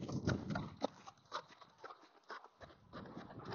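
A gaited horse's hooves thud and clop irregularly as it steps over obstacles on the ground during a training exercise, soft scattered footfalls at a moderate distance.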